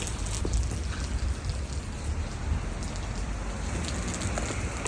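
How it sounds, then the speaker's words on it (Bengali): Water pours and drips down steadily, not rain, in one continuous dense hiss with a low rumble beneath. It sounds close and fairly loud, with no speech. "পানি, বৃষ্টি পড়ছে না, পানি নামতেছে।"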